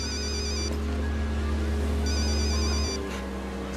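A phone rings with repeated electronic tones over a loud, steady low hum and background wash, the ringing pulses coming in two clear bursts.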